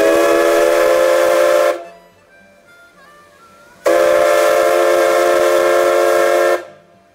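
A rebuilt ALCO five-chime steam locomotive whistle sounds two long, loud, steady blasts, each almost two seconds or more, with a quiet hiss between them, on a test run at Niles Canyon Railway.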